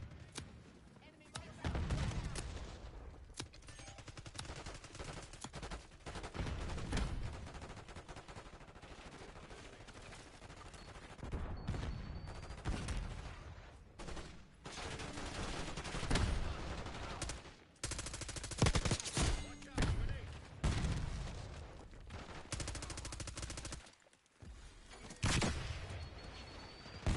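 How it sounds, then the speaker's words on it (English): Rapid gunfire and explosions from a Call of Duty match, including a hand cannon, come in loud repeated bursts and blasts throughout, with brief quieter gaps between volleys. "Hand cannon going off."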